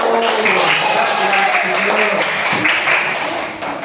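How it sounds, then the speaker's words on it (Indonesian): A classroom of students applauds group 1 during an Indonesian science lesson on animal metamorphosis: a brief, steady burst of close clapping that tapers slightly near the end, with voices mixed in. "Tepuk tangan untuk kelompok 1"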